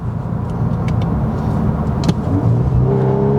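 Interior drone of a 2021 VW Golf R accelerating hard on the Autobahn, a steady low engine and exhaust roar with road noise and a rising tone near the end, continuous and close.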